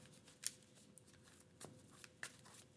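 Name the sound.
shuffling a deck of Marvel Champions cards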